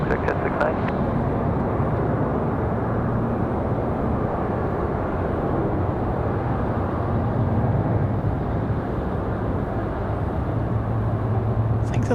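A jet airplane rolls for takeoff on runway 23 left at Raleigh-Durham International, a steady broad engine roar holding at constant strength for the whole stretch, fairly near and continuous.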